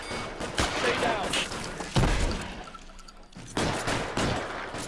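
Gunshots ring out during a bank shootout in L.A. Noire, with sharp, scattered reports and some rapid volleys, mixed with game dialogue and voices.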